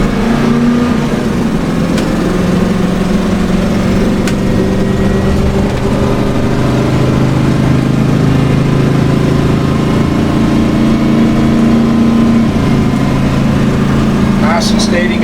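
The gas engine of a 2003 Fleetwood Pace Arrow 36B Class A RV climbs a hill with a loud, steady, low drone and constant road rumble throughout.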